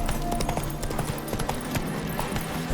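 Roach, a horse in The Witcher III, gallops with a steady, rapid clip-clop of hooves in the foreground over a constant game soundscape. No one speaks.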